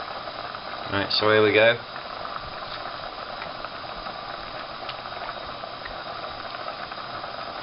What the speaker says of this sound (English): you can probably hear in the background now that's just boiling